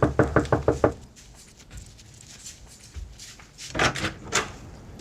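A quick run of five firm knocks on a door, then a quiet pause before another short, uneven series of knocks.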